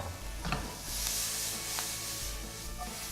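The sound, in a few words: onion added to frying spices in pan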